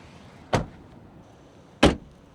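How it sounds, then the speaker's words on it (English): Two solid car door thuds from a Mercedes CLA EV, the second louder, in an otherwise quiet setting. "I thought Mercedes sound better when they close the doors"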